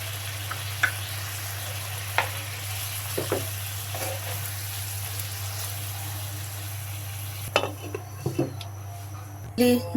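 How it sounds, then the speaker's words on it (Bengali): Chicken fries in a pan with yogurt added, making a steady low sizzle under a constant hum, with a few clinks of a utensil on the pan near the end and no talking. "এখন আমি দই দিয়ে দিচ্ছি"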